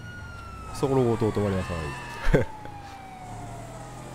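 Police car siren in GTA 5, a rising electronic wail with a brief whoop sweep, heard under a man's speech and a short burst of loud sound, against steady in-game engine hum.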